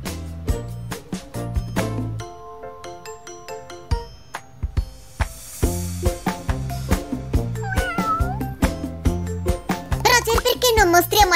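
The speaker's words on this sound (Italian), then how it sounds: "Cosa dice il gattino? Esatto! Miau!" A cartoon kitten meows in short high calls amid bright chiming music, cheerful bell tones and a child-like voice, the cat sounds recurring through a busy, playful musical backdrop.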